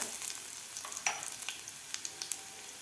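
Dried red chilies dropped into hot oil, a faint, thin sizzle with scattered sharp crackles and pops over a quiet background.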